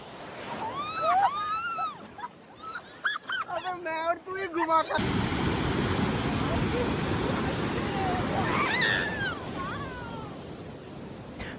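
Ocean surf at Om Beach in Gokarna, a continuous broad wash of waves rolling in close by, with voices and music-like tones over the start and end.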